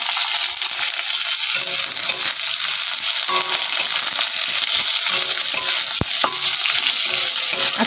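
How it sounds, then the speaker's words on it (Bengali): About 200 g of chopped onion fries in hot oil with lightly browned garlic, a loud, dense, continuous sizzle close up, broken once near the end by a sharp metallic clink. "রসুন হালকা লাল হয়ে গেলে পেঁয়াজ দিয়ে দেবো, পেঁয়াজ কুচি দিয়ে দেবো।"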